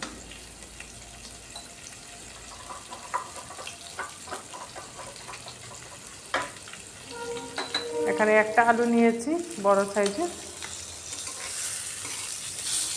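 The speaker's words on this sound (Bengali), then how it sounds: "মাছগুলো দিয়ে নিলাম তেলের মধ্যে এদিকে মাছগুলো ভাজা হতে থাক" Pieces of rohu fish fry in hot oil with a soft, steady sizzle that grows louder and more crackly toward the end, while a person talks over it nearby.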